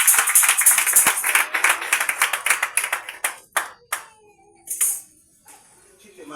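A church congregation claps in praise during an intense prayer service, with fast, loud, rhythmic clapping from many hands close by that thins into a few scattered, separate claps and then fades.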